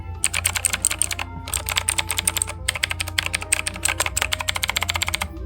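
Rapid, steady keystrokes on a mechanical computer keyboard, close and crisp, in three bursts of typing separated by short pauses, with no talking.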